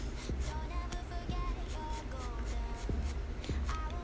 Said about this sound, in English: I'm just gonna lightly sketch back and forth motion.